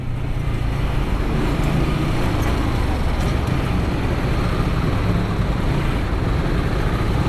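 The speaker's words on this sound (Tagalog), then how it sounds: "Ito na naman ang traffic." Steady, dense road traffic noise fills the scene: a continuous broadband rumble of cars and heavier vehicles, loud and unbroken throughout with no distinct passes standing out.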